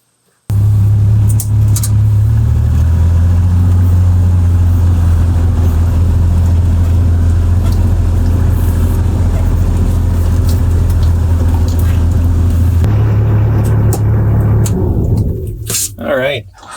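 A vehicle driving down a flat forest trail, its steady low engine rumble loud and continuous throughout, close and alone, easing off and fading near the end with some rattling as it slows.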